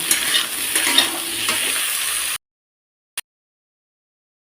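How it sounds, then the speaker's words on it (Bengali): Potato and eggplant frying in oil, a close, bright sizzle with light stirring for about two seconds before cutting to silence, broken by one brief click. "একটু আলু বেগুনটাকে ভেজে নিচ্ছি"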